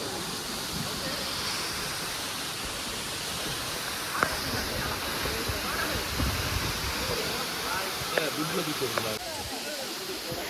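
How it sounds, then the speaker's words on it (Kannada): A constant broadband roar of falling water fills the scene, close and steady, with a few faint voices and small knocks over it. "ಸೂಪರ್ ಕಾಣ್ತದೆ ಫಾಲ್ಸ್"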